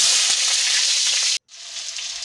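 Potatoes deep-frying in a cup of oil in a kadai give a loud, steady, hissing sizzle that cuts out briefly midway and then resumes.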